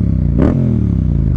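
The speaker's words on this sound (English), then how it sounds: "to me this sounds like a Harley, man, a little bit. Like at the lower revs." A heavy Yamaha cruiser motorcycle engine idles with a deep, loping, Harley-like rumble at low revs, close and loud, with a brief throttle blip partway through.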